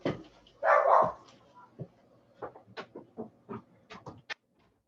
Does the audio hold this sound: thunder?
no